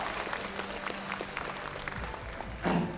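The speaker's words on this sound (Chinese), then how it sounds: "各位再次把最热烈的掌声送给我们的所有的解说团队" A crowd at a StarCraft II WCS Shanghai all-star esports event gives a brief round of applause. The clapping is soft, distant and fairly steady, then swells slightly near the end.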